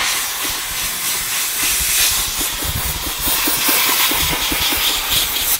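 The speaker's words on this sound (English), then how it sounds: "Take a little bit of compressed air." Compressed air blows hard through parts of a Ski-Doo Gen 5 snowmobile, making a loud, continuous hiss with faint rattling underneath that lasts the whole stretch.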